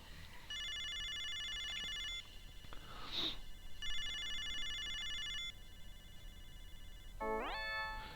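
A telephone in the Snatcher video game rings with two long electronic trill bursts, each followed by a pause, then a short rising tone sweep, clear and unaccompanied by talk.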